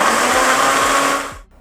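A kitchen blender grinds a peanut butter protein shake with a loud, steady whirring roar that runs for over a second, then cuts off abruptly into quiet.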